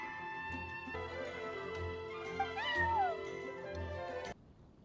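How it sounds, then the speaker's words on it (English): A cat meows loudly and close in Genshin Impact, a drawn-out rising and falling yowl over a steady sustained musical tone that cuts off abruptly near the end. "I'm sorry, that's my neighbor's cat."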